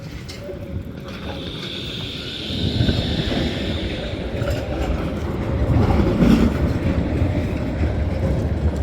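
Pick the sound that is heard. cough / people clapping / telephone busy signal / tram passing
tram passing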